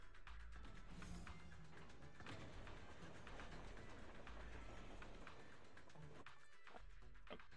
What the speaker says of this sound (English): Let's move the train.